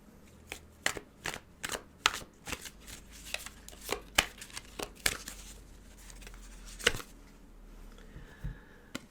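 Tarot cards shuffled by hand in a quiet room, heard as a series of soft, crisp riffling bursts at an uneven rhythm, close and fairly faint, with no talking.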